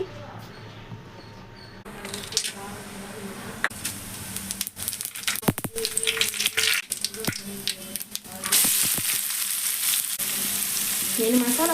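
Fennel, cinnamon, cloves and bay leaf frying in hot oil for an egg, potato and brinjal curry, a steady close sizzle that swells with bursts of crackle and a few sharp pops and stirring clatters, louder toward the end.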